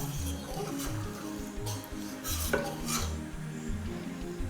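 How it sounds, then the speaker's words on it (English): A spoon stirs a milk tart mixture with caster sugar in a pot, giving repeated light scraping and metallic clinks against the pot over a quiet kitchen background, with a faint murmur of talk. "You give it a bit of a stir."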